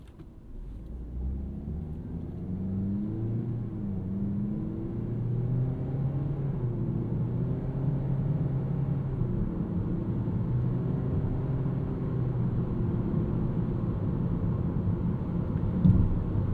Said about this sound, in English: you can just hear a bit of road noise once you are up to speed